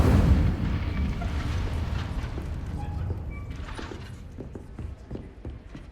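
A fire spell bursting in a Harry Potter wizarding game opens with a loud whooshing blast that fades into a lingering crackling rumble with scattered small pops, with no voices.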